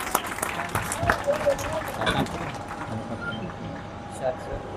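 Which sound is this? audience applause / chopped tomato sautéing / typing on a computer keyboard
audience applause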